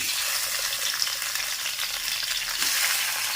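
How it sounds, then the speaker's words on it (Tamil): Tomatoes sauté in hot coconut oil in a pan, giving a steady, close, dense sizzle that crackles continuously without pause and with no talking. "தேங்காய் எண்ணெய் ஊற்றி தான் வதக்கிறேன்"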